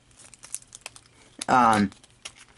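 A durable vinyl plastic bag from cube packaging crinkles in a brief, sharp burst near the middle, with quieter handling rustles around it.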